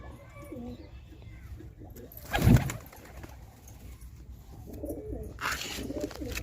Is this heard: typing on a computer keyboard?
no